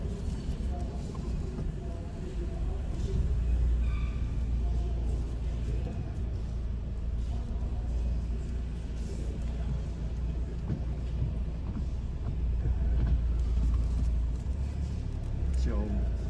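Car being eased into a parking space on a busy town street, a steady low engine rumble and road noise running throughout, close and continuous, with a person talking over it.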